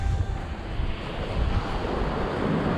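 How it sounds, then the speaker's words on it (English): Waves breaking on the beach at Kilkeel, County Down, a continuous loud roar of surf mixed with gusting wind on the microphone, with no voices. "Noise of the sea and all, the noise of the sea."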